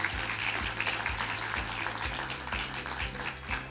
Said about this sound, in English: let's give Chris a great round of applause and thank him again.